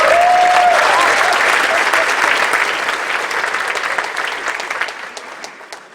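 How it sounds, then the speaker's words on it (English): Applause from the audience at the UNDP Equator Prize gala in New York, loud and dense at first and then slowly fading, with a brief whistle near the start. "this is applause, there must be somebody else coming on stage"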